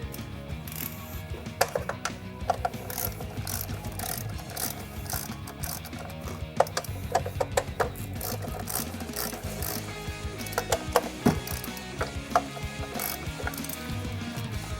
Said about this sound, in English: Once I have the ratchet, once they're loose, I can simply use this handle as a spinner.